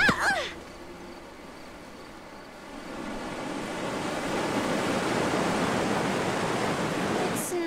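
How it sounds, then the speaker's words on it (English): A cartoon waterfall roars as a broad, steady rushing wash that swells in after a quieter start and holds loud and constant, with no talking over it. "it's a waterfall"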